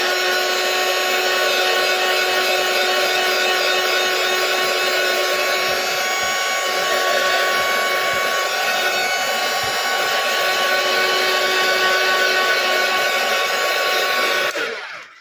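A handheld dryer blows steadily over a freshly painted paper craft project, a loud continuous whirring hiss lasting about fifteen seconds before cutting off, close up with no talk.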